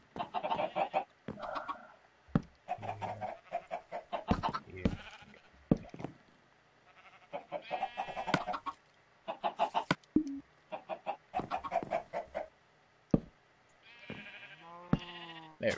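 Chickens in the Minecraft video game cluck in short, repeated bursts throughout, with a few bleat-like calls mixed into the busy stretch of farm-animal noise.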